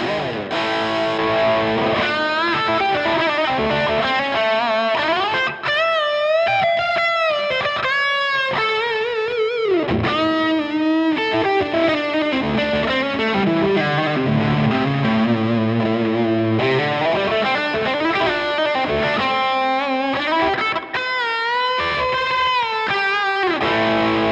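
A heavily distorted electric guitar plays a sustained lead line with bends, thick and loud with a boosted, saturated tone throughout.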